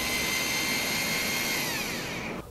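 An electric rotary hammer drill runs loud and steady at close range with a harsh, sustained whine, then winds down sharply at the very end.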